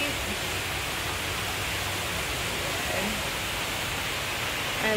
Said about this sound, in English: It feels like you're in the jungle with waterfalls.